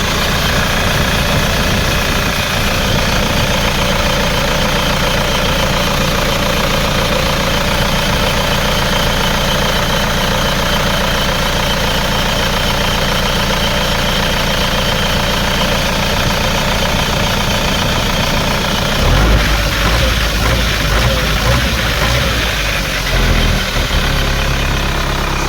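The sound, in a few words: Isuzu Panther 2003 diesel pickup engine idling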